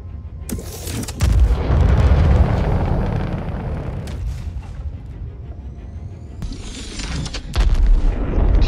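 A torpedo strikes an iceberg wall in a game test, giving heavy booming blasts with a rumbling tail, then a second deep explosion near the end, loud and with no talk.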